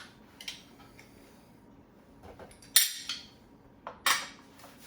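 Cocktail being mixed in a glass, a few sharp clinks and taps of a spoon or tool against glass, scattered irregularly with quiet gaps between, close and with no talking.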